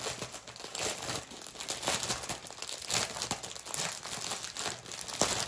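Plastic packaging from a Bella Art Diamonds diamond painting kit crinkles continuously and close up, with a dense, rustling texture and no voices.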